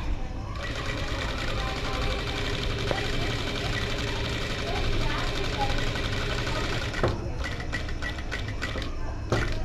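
Sewing machine stitching along the canvas edge of a round collar neck dress, a steady continuous mechanical whir that runs throughout with a brief pause near the end, and a voice talking over it.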